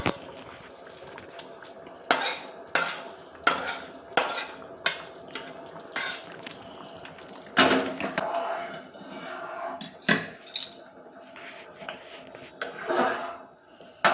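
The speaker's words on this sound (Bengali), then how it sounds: "এইভাবে আমি হালকা করে নেড়ে চেড়ে নেব" A spoon scrapes and clinks against a pot while spiced khichuri is stirred, a series of sharp metallic knocks at an uneven rhythm with soft wet sloshing between them.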